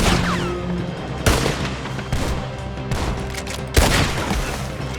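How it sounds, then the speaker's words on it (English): Gunfire from the open-world Western game Red Dead Redemption 2: a dense, sustained crackle of shots under a rolling rumble, with a couple of sharper, louder reports standing out near the middle and end. "Who are we shooting at still?"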